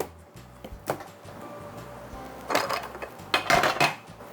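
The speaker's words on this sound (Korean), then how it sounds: "뚜껑을 개봉을 해보겠습니다" A plastic lid is pried off a container of cucumber pickles made without added water, giving scattered close clicks and hard plastic clatters with a couple of louder rattling bursts.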